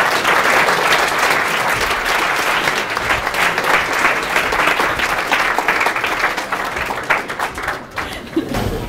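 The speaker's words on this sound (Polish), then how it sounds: "Bardzo proszę o gorące brawa." Sustained audience applause at an improv comedy workshop fills the whole stretch, a dense steady roll of many hands clapping that thins slightly near the end.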